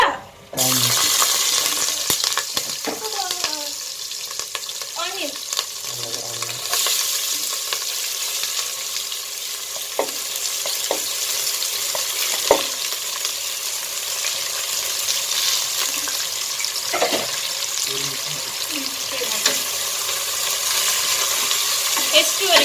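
Onions for mushroom biryani fry in a pan with a loud, steady hiss that runs throughout, while occasional clinks and scrapes of a spoon against the pan sound over the sizzle.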